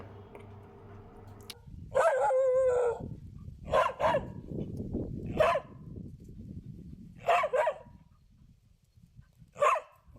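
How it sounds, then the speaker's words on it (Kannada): A pet dog barks in short bursts spread over several seconds, mixed with a rooster's crow near the start over steady outdoor background noise, with no talking. "ಹಾವಿನಿಂದ ತನ್ನ ಜೀವ ಉಳಿಸಿದ ತನ್ನ ಸಾಕು ನಾಯಿ ರೋಮಿಗೆ ಪ್ರಶಂಸೆ ವ್ಯಕ್ತಪಡಿಸಿದ್ದಾರೆ"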